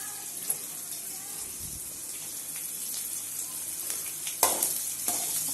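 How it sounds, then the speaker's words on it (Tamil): Onion frying in a pan for rava khichadi, giving a steady soft sizzle with occasional stirring scrapes and a brief louder clatter near the end; no voice is heard. "ஆனியன் நல்லா ஃப்ரை ஆகிட்டு இருக்குது."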